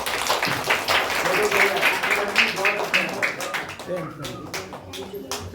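At a school Republic Day event an audience claps in brisk rhythmic bursts, loud and close, with a voice and some chatter mixed in.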